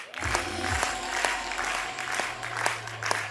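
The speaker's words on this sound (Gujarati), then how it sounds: "વિદ્યાર્થીઓ તાળીઓનો અવાજ રોકાવો ના જોઈએ" An audience claps for students at a school annual day, a steady wash of applause over a sustained low tone in the hall.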